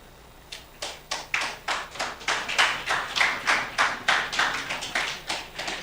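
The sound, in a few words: audience clapping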